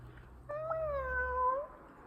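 A cat gives a single drawn-out meow, clear and fairly close over a low background hum, rising then falling over about a second.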